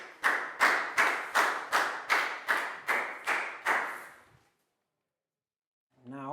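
A primary classroom claps together for a pupil in a rhythmic pattern of about ten evenly spaced, loud group claps that stop abruptly, followed by silence and then a voice.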